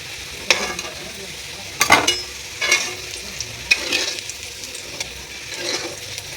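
Onions go into hot oil in a pan for a potato chicken curry and fry with a soft sizzle, broken by a few sharp stirring scrapes and clatters, close and without talk.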